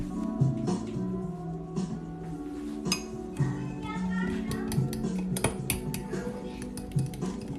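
Egg being mixed into mug cake batter in a mug, a steady run of close utensil clinks and scraping against the mug with kitchen clatter, no speech over it.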